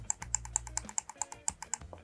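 Scroll wheel button of a GamePro Asgard Odin gaming mouse clicking, about ten sharp, evenly spaced close clicks in a steady rhythm, with no talk.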